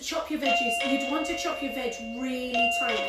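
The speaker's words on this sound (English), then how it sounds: "Excuse the doorbell, they'll sort it." A doorbell chimes in sustained ringing tones under a person talking steadily about cooking, the bell clear but secondary to the voice in a home kitchen.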